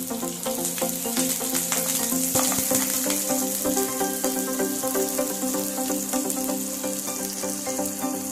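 Onion and curry leaves sizzle in hot oil for a tempering over spluttered mustard seeds, a loud, steady, dense crackle with no talk.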